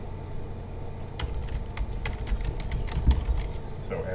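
Keys clack in a quick, uneven patter on a computer keyboard, fairly faint over a steady background hum.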